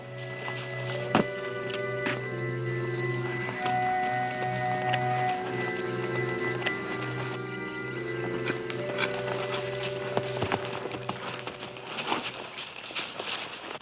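Horse hooves clip-clopping at a walk in a western film scene, steady rhythmic thuds under a sustained orchestral music score, with a few sharper knocks near the end.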